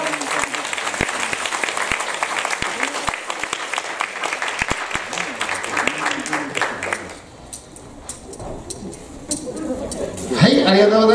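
A Christmas yosakoi dance audience in Hasuda claps for a flag dance troupe, with steady rhythmic applause and crisp individual claps for about seven seconds, then quieter scattered claps as a host speaks over it.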